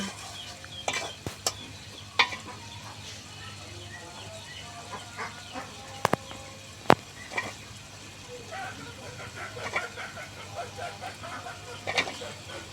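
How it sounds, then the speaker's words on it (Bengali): Pangas fish and bottle gourd are stir-fried in a pan, a low sizzle under scattered scraping and clinking from the spatula, with distant clucking chickens faintly in the background. "এখন মাছগুলো ভালো করে কষিয়ে নেব।"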